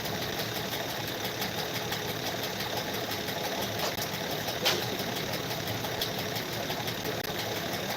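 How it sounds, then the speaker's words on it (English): A car engine idles steadily with the bonnet open during a timing belt and tensioner check, a close, even mechanical hum with a faint rhythmic tick and no talking. "with the engine running."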